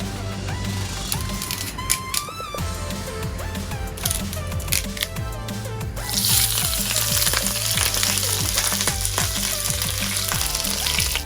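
Curry leaves dropped into hot oil in a pan for a prawn puttu dish crackle and sizzle loudly, with clinks and stirring at first, then an intense, steady hiss of frying.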